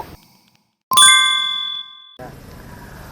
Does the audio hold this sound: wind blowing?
no